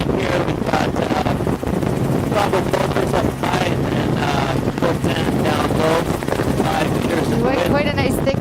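A helicopter flies low over thick eelgrass beds in clear coastal water, its steady rotor and engine roar loud and constant with wind buffeting, and someone talks over it.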